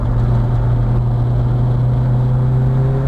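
A Nissan S13 240SX drift car set up for grip runs at full throttle, a loud, constant engine drone heard from close by, with no talking.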